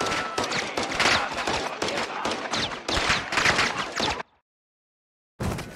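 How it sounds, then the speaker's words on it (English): Rapid bursts of automatic gunfire rattle in a Modern Warfare 2 campaign firefight, loud and close, with dense overlapping shots that cut to sudden silence before another burst starts. "We're taking fire."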